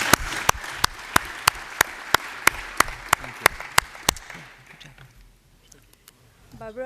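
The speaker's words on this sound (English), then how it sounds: "join me in giving them a round of applause for their presentations" Audience clapping for panelists at a conference plenary panel discussion, a sparse run of sharp, evenly spaced claps that fades out after about four seconds, followed by quiet room sound.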